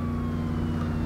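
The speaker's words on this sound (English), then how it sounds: "Right in front of a police car." Police car siren in the Saints Row video game, heard as a brief wailing tone over a loud engine rumble from vehicles, continuous through the short moment.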